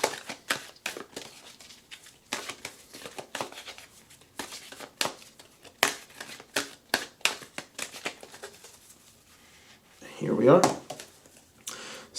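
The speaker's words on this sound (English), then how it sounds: "We're going to shuffle." A tarot-style Archangel Oracle card deck being shuffled by hand, giving a run of quick papery riffles and flicks in short bursts, close and fairly quiet, with a brief louder rustle near the end.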